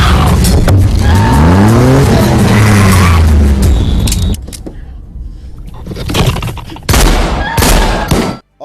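A car from a film starting and speeding off, loud rising engine whine and tire squeal, then a quieter gap and sharp bursts like gunfire and impacts toward the end.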